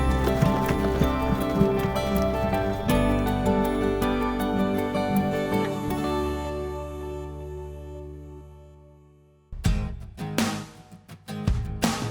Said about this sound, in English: Wow, a rider on a horse.